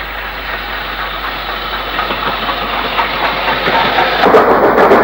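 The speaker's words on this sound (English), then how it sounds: "A Saturday lunchtime train arrives at Nanuk from Mould." A diesel train stands idling at Nannerch station on the Mold line, its engine a steady rumble and hiss that grows slightly louder and rougher near the end, with no voices.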